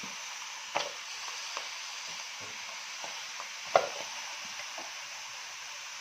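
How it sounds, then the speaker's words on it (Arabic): Chicken pieces stir-fried in a very hot pot give a steady, fairly quiet sizzle throughout, with a few sharp clicks and scrapes of stirring. "هننزل بالفراخ بتاعتي تاخد تشويحه كده محترمه"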